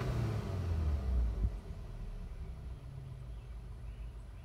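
A 2013 Volkswagen Eos four-cylinder engine idling: a low, steady, smooth rumble with a slight swell early on, heard close and without talk.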